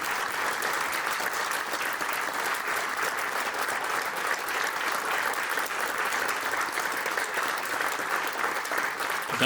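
Concert audience applause at a performance with a pianist and an orchestra in Divača, Slovenia, a dense, even wash of clapping held steadily throughout with no talk.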